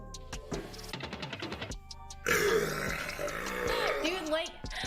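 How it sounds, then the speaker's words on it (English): A man's long, gurgling burp after chugging a drink rolls out loud and close, following a stretch of rhythmic gulping. "I just love watching this man chug and burp."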